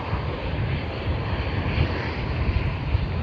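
Jetstar Airbus A320 beginning its takeoff roll at Sydney Airport for Ayers Rock, a steady broad engine roar heard from a distance, continuous and fairly loud with no voices.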